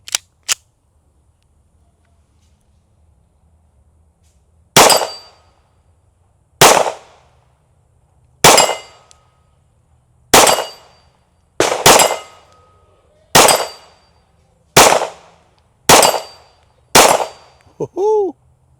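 A 2011-pattern pistol firing Federal 124 grain Syntec purple-tip training ammo, about ten sharp, loud shots spaced roughly a second or two apart after a brief click at the start.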